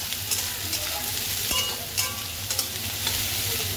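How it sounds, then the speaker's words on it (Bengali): Soybean chunks with cumin, chili and turmeric powder frying in a pan, a loud steady sizzle with repeated scraping stirs and light clinks, close and without talk. "এবার সোয়াবিনটা একটু ভাজা হোক লাল লাল করে"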